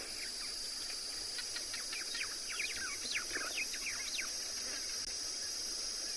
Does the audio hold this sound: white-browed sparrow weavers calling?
yes